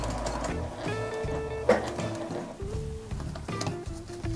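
Sewing machine back stitching on a zip tote bag, with a close, rapid mechanical whir and ticking needle that starts and stops in short runs.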